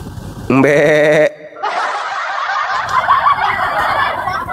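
A goat's bleat rings out alone as a loud, wavering sustained cry for under a second, then gives way to a steady, noisy rushing sound.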